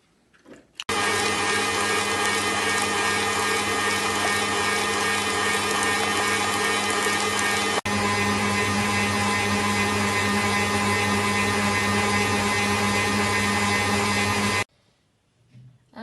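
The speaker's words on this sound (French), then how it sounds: "On va les battre jusqu'à que ça blanchisse." An electric mixer beats eggs and sugar for cupcake batter, a steady loud motor whine running unbroken for about fourteen seconds, with a brief click midway and quiet before and after.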